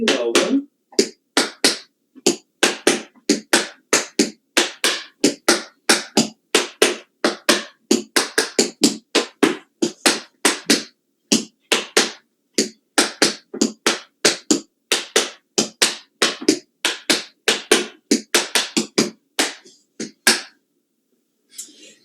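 Tap shoes strike a hard floor in quick, crisp bursts as flap, heel, spank and toe steps run on both sides. The clicks are close and sharp, falling into a steady repeating rhythm with brief gaps between phrases.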